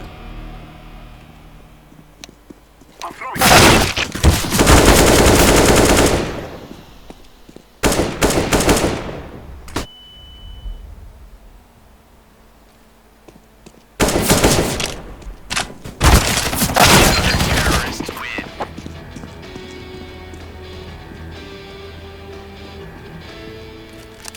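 Loud bursts of automatic gunfire in Counter-Strike: Global Offensive, several sustained volleys of rapid shots separated by quieter pauses, with a fainter hum of game ambience between.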